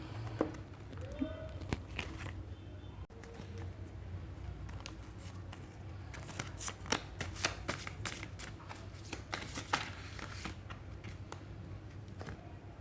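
Oracle cards are shuffled by hand close up, soft rustling that turns into a quick run of crisp riffling flicks, with a voice faintly present in the background.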